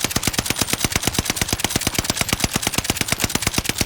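Rapid automatic gunfire from an NZ-41 rifle fired at a 40-yard target, a long unbroken burst of evenly spaced, loud, sharp shots with no talking.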